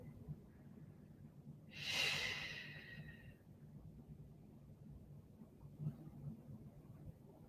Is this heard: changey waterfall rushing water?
no